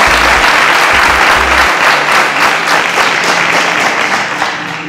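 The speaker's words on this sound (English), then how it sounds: "A round of applause for Ezinne." Dense, steady applause from a studio audience fills the space, loud and continuous for several seconds before easing slightly at the end.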